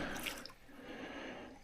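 Water runs steadily into a water sack at a trailside source on a bikepacking route, a continuous close splashing trickle with no pauses.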